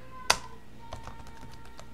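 Command typed on a computer keyboard into a terminal: one sharp keystroke, then a quick run of softer, close key taps.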